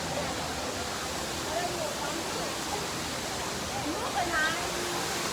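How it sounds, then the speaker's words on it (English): A waterfall in Singapore roars as steady, broadband rushing water, loud and continuous throughout, with faint voices and brief tonal calls surfacing over the constant wash. "I'm in the waterfall right now."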